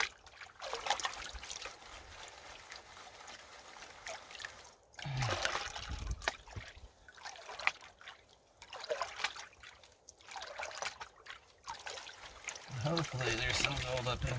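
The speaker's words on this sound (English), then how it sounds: "And then we wash it 3 times, saturate. Wash it again 3 times." River water sloshing and trickling in a gold pan being washed in the Trinity River in California, with irregular splashes and swirls under a continuous outdoor water backdrop and some voice.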